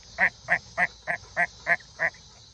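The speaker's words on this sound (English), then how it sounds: "There's birds. There's birds." Seven evenly spaced, loud honking calls from nearby waterfowl, duck- or goose-like, repeating at a steady rhythm against quiet background hiss.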